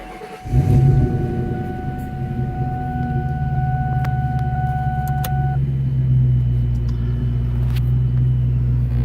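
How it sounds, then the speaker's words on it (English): A garage-kept 2003 Ford Mustang SVT Cobra 10th Anniversary Terminator with 25,199 miles cranks and catches with a loud burst, then settles into a steady, deep, rumbling idle close by, with a faint high tone briefly ringing over it. "So let's fire it up and do a quick walk around."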